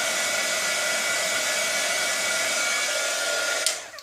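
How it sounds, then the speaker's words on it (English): Heat embossing tool blowing hot air, a steady loud electric whir and rush of air held continuously, then cutting off abruptly at the end, no talking. "All right, you're done with your heat tool."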